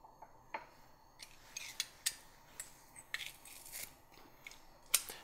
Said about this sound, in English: my garlic cloves right into this. Now, if you've never used a garlic press